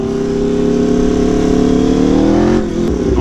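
A motorcycle engine revs up in a rising, steady drone, loud and close, holding for over two seconds before dropping off abruptly.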